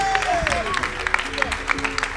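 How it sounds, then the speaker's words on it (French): An audience at a live game event breaks into steady applause, close, loud clapping blended with cheering and crowd voices for the whole stretch. "Et un tonnerre d'applaudissements pour vous."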